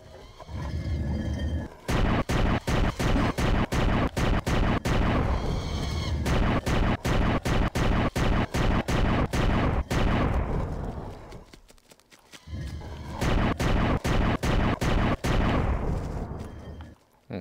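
Dense bursts of rapid gunfire from the OUYA dungeon game Down Below, loud and close, coming in several long volleys separated by brief pauses and a short quiet gap near the end.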